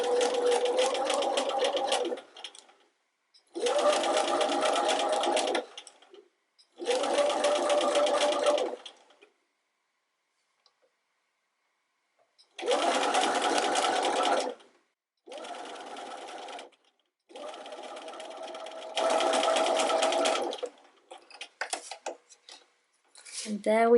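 Sewing machine running a narrow hem with a hemmer foot, in several separate bursts of steady stitching with short pauses between them, close and clear, with no talk.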